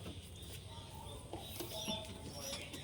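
Pigeons in a home loft of hens, pairs and young squabs give a few soft, low coos over steady background noise, with faint bird chatter scattered across the moment.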